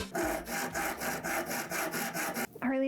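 A hand saw cuts through a piece for a DIY Disney princess tiara held still by hand, with about ten steady, rhythmic back-and-forth strokes, close and loud, before the sawing stops and a voice briefly starts.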